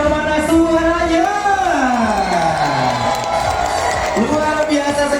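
A crowd at a SeaWorld Ancol aquarium show in Jakarta cheers and shouts loudly and continuously, with children's voices and whoops rising and falling over a steady roar.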